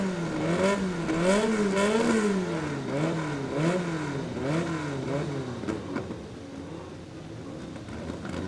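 Two drag cars, a Mustang and a white Honda Civic, launch side by side at a World Cup Finals import-versus-domestic meet in Maryland, engines revving hard in rising, warbling sweeps that fade as they pull away.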